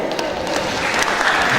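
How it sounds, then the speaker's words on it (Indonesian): A crowd of contestants and audience applauds at a school quiz competition semifinal, a steady dense patter of clapping filling the whole moment without pause. "Oke, tepuk tangan untuk saya."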